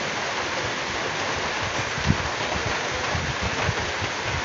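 Steady rain falling in a rural Filipino home setting, a dense continuous hiss of drops with a couple of brief knocks, fairly close and even in level, with no voices.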